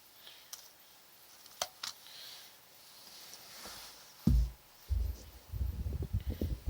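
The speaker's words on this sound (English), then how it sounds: "So, I am going to trim my wire." Jewelry wire for a pink Peruvian opal marquise pendant is snipped with cutters: a few sharp, isolated clicks close by, followed by soft handling thumps and rustles on the work surface.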